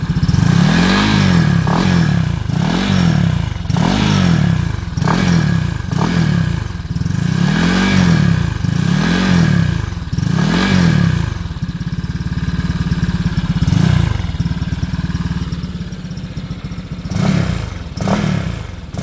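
Honda PCX scooter with a 175 cc bored-up engine and Byson aftermarket exhaust, revved repeatedly in even, throaty blips, then settling to a rough idle before a few more revs, loud and close.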